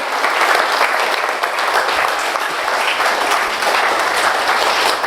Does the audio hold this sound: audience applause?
yes